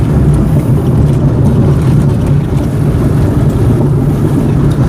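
A big Tata 1610 truck rumbles past close by with a loud, steady low-pitched engine drone, wind buffeting the microphone throughout.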